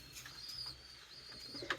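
Pigeons cooing inside a loft of large, high-quality breeding birds: soft, low repeated coos with faint chirps and a brief flutter near the end, quiet and fairly close, with no talking.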